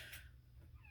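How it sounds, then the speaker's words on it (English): A kitten under three months old meows at a door indoors, one faint high cry near the start over a low hum, with no talking. "You might hear my kitten meowing at the door, Calypso."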